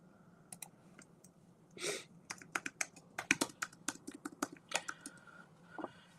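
Fingers type on a computer keyboard in a quiet room, producing a close, irregular run of crisp key clicks and taps that thickens into a quick burst midway, with no talking.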